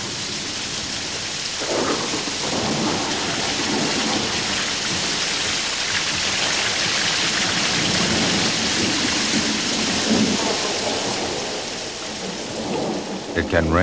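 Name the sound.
heavy rain and thunderstorm in the Pantanal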